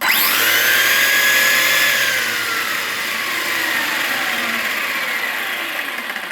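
An Arrma Kraton 4S electric RC car's motor revs with a loud, high whine that rises and then slowly falls away, sustained and alone with no voices.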